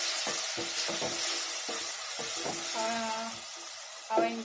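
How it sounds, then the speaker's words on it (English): Beans cooking in a pot are stirred with a utensil, giving soft scraping strokes and clinks over a steady sizzle and bubbling, with a few brief tonal scrapes against the pot. "Then you stir."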